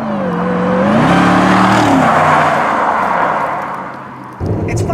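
A Mercedes SLR accelerating hard, its engine note rising loud and close through the gears with a brief dip before the roar picks up again.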